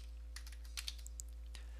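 Quick, soft keystrokes on a computer keyboard while searching in the Windows 10 Start menu, a brief irregular burst of light clicks, faint and close, with no voices.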